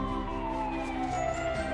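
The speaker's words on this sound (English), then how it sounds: "A fire truck! Let's go see!" A cartoon fire truck siren wails in a children's animated show, one loud, steady tone gliding slowly downward in pitch, close and alone for under two seconds.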